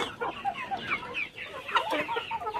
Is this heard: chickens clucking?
yes